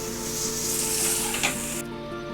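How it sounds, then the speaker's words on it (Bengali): Bitter gourd pieces fry in hot oil in a pan, giving a steady close sizzle with light stirring that cuts off abruptly near the end. "আমি উচ্ছেগুলো আগে একটু ভেজে তুলে নিচ্ছি"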